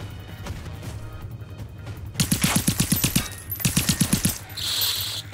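Rapid bursts of automatic gunfire from hostile robots in Generation Zero, two rattling volleys of evenly spaced shots, loud and close, followed by a sustained hiss, with no talking.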